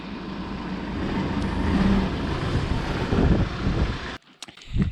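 A tractor engine runs at a house renovation site, giving a continuous, fairly loud rumbling drone that cuts off abruptly near the end and is followed by a few scattered knocks.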